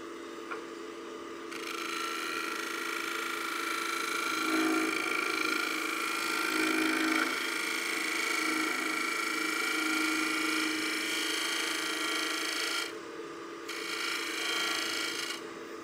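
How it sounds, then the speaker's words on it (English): A shear-scraping tool rasps steadily across a wooden succulent planter spinning on a woodturning lathe, a close, continuous scraping hiss over the lathe's steady hum, easing off briefly near the end. "We'll finish shear scraping across the center."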